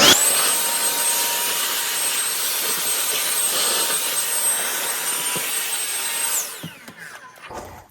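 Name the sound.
handheld vacuum cleaner running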